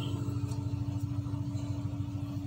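A three-year-old Yamaha Lexi scooter with a weak, drained battery cranks on its starter: a close, steady low hum with fast rhythmic pulsing, struggling and never catching.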